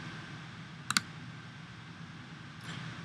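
A mouse click on a Sign In button, a quick double click close up and crisp against a quiet hum, followed later by a faint softer tick.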